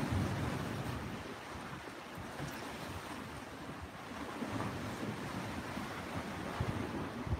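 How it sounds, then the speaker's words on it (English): Atlantic Ocean waves wash onto the shore at dusk, a steady rushing roar of surf mixed with wind buffeting the microphone, continuous and fairly close with no talking. "The Atlantic Ocean."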